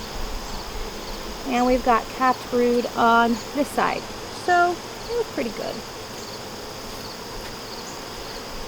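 Honeybees buzz loudly around an opened hive during an inspection, a dense constant drone close by, while a person talks over it in short phrases.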